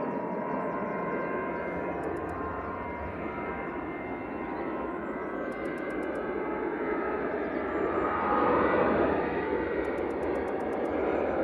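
A Dutch Boeing 737-800 airliner bound for Amsterdam moves at Manchester Airport with a sustained jet engine roar that builds gradually louder, joined by brief faint high beeping bursts, and no speech.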